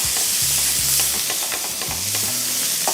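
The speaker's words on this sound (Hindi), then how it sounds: "इसको पहले थोड़ा सा फ्राई करेंगे। इसकी फ्राइंग से ये होगा कि जो बोलोनिया का जो स्लाइसेस हैं ये फ्राई होंगे" Bologna slices sizzling loudly in a pan, a dense continuous frying hiss up close with a few low clunks and scrapes from the utensil; no voices.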